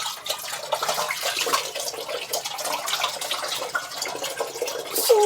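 Running tap water splashes steadily for several seconds, with intermittent spattering as hands move through the stream, close by.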